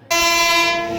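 The Jogbani–Erode Amrit Bharat train sounds a loud, sustained horn as it overtakes at Kaveri railway station, the tone starting abruptly after a brief quiet and holding steadily near at hand with no talk.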